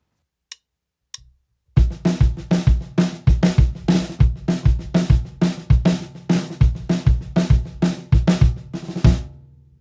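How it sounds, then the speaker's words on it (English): A New Orleans-style drum groove plays loud and close: a syncopated snare figure over a 3/2 clave on the bass drum, with punchy low thumps under crisp snare hits, preceded by stick clicks counting in. "When I combine this with a 3/2 clave in the bass drum"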